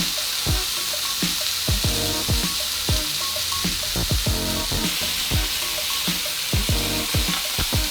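A burger patty and bun sizzle on a hot griddle in a loud, steady frying hiss, broken by repeated close scraping and tapping clicks, with no voices.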